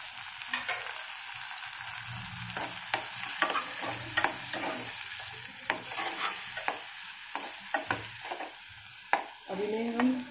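Tomatoes and spices fry with browned onions in a pan for a paneer curry: a soft sizzle broken by frequent sharp scrapes and taps of a spatula stirring, all close by, with no speech.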